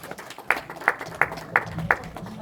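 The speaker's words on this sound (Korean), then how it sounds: "뜨거운 박수로 모시겠습니다" An audience at an academic forum applauds to welcome a speaker, producing a modest, evenly spaced run of claps at a brisk rhythm, moderately distant.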